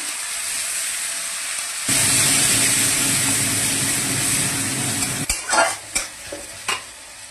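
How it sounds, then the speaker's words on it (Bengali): Mashed onion hits hot oil in a pan with a sudden loud sizzle that holds steady, then several scraping stirs near the end, close and without talk. "পেঁয়াজ চটকে আমি দিয়ে দিলাম"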